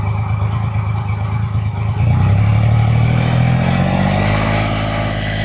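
2025 Triumph Rocket 3 R motorcycle fitted with a Storm Werkes exhaust, held at around 2,000 RPM: a loud, deep, steady engine rumble close by that rises slightly in pitch partway through.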